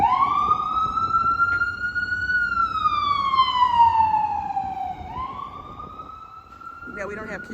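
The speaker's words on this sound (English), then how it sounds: "ambulance, the Krankenwagen" An ambulance siren wails along a New York City street, a loud, rising and falling tone that sweeps down and then climbs again, with traffic rumbling beneath and a voice briefly at the end.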